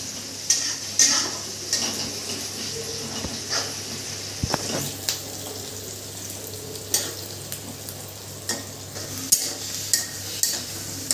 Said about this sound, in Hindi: प्याज और थोड़ा सा फ्राई करने दो, थोड़ा सा ब्राउन कलर आ जाएगा